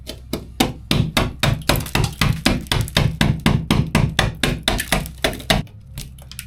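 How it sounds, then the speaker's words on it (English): Chisel and hammer chopping sealant off a bus window, about twenty quick, sharp, evenly spaced hammer blows close to the microphone, with a brief pause at the end. "I'm just basically using a chisel and a hammer just to get in behind the sealant like so, and then chop it off."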